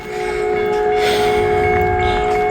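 Norfolk Southern freight train drawing near on a cold, windy day in Wyoming, its steady horn tones ringing loud and sustained over the rumble of rails and wheels.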